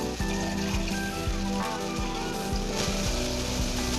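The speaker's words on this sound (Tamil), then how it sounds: "குழம்புக்கு தேவைக்கு ஏற்ப தண்ணி ஊற்றிப்போம்." Water poured into a pan of frying vegetarian kola urundai kuzhambu gravy after the onions have softened, giving a steady hissing sizzle with bubbling that holds at an even, fairly loud level throughout.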